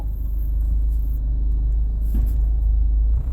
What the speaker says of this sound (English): when the engine and transmission start vibrating